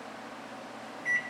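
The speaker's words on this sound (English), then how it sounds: "The microwave is yelling at us." A kitchen microwave oven beeps once, a short bright tone near the end over a steady hum of room noise, heard fairly close with no talk.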